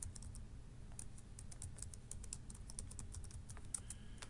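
Rapid keystrokes on a computer keyboard while a password is entered, a steady, close patter of light clicks running throughout over a low background hum.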